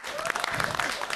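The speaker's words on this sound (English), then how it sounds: "Please give me a big round of applause" Dense applause from an audience at an African stage show, loud and steady with a faint murmur of voices underneath.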